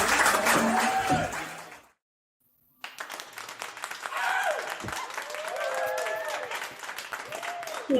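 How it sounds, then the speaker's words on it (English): A canned clap-track of crowd applause plays as a dense burst, cuts to silence, then returns with clapping alongside a voice talking over it. "We love a good clap track."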